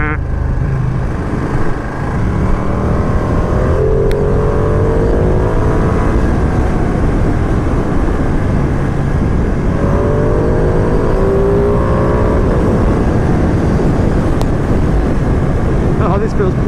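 A 2020 Ducati Panigale V2 engine roars loudly and continuously while the bike is ridden, with wind rush and rising and falling revs through gear changes, close and dominant throughout.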